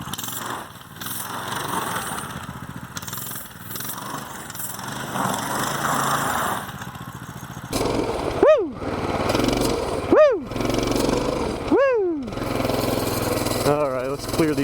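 A Coleman BT200X mini bike's small engine buzzes outdoors on icy ground, rising in several sharp, quick revving bursts as the throttle is punched, with wind noise and a voice talking over the earlier part.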